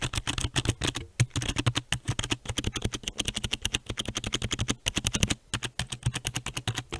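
Fingers type quickly on a Razer Ornata mecha-membrane keyboard, a close, dense run of soft clicky keystrokes with a few short pauses and no voices.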